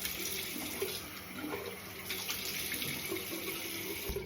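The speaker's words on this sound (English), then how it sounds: "I'm going to wet my face with warm water" Warm tap water runs steadily into a bathroom sink as a face is wetted for a skincare routine, a continuous close hiss and splash with small shifts in the flow and no talking.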